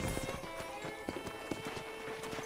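Rapid hoofbeats of a galloping horse in the video game Red Dead Redemption clatter steadily, fairly close and clear, with a continuous tonal hum in the background.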